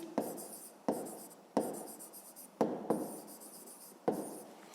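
Pen or pencil writing by hand on paper during a fifth-grade maths exercise, heard as six separate bursts of scratchy strokes, each starting sharply and fading, close and clear with no talk.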